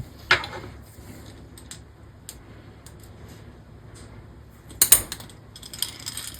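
Short modified hemostats click shut to grip a line tie. Two sharp, close metallic clicks come several seconds apart, with faint ratcheting ticks between them in a quiet room.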